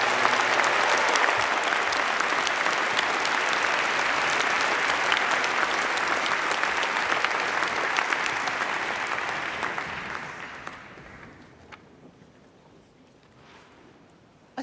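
A graduation ceremony audience in a large hall applauds Mechanical Engineering graduates at a Faculty of Engineering commemoration day, with sustained dense clapping that fades gradually and dies out near the end.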